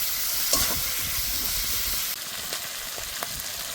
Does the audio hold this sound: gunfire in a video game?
no